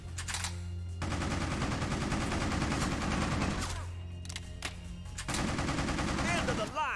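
Rapid automatic gunfire rattles in the video game Bad Boys: Miami Takedown, loud sustained bursts with short pauses between them, close and dense, while some voice sounds mix underneath.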